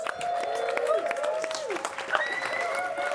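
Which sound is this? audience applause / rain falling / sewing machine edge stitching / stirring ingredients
audience applause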